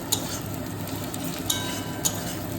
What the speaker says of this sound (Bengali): এখানে পেঁয়াজ ভাজা হচ্ছে